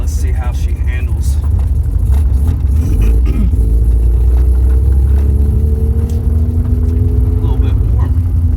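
Mazda RX7 with a turbocharged 13B rotary engine on its first road drive, a loud, steady engine drone and rumble with rising revs throughout, close to the car.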